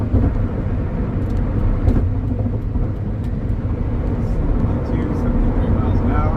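Steady engine and road drone of a car cruising at about 72 to 73 miles an hour in sixth gear on a test drive, loud and continuous from inside, with a voice talking over it.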